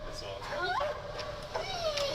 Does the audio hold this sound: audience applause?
no